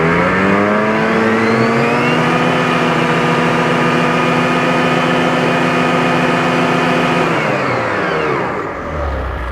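A Ski-Doo turbo snowmobile engine with a turbo muffler revs up to about 7,500 rpm and holds there as a loud, close, sustained whine, then drops back near the end.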